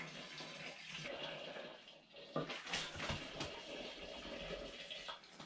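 Water poured into a citrus aid mixture of dissolving sugar, a steady splashing pour with brief clinks of a container, close and fairly loud with no talking.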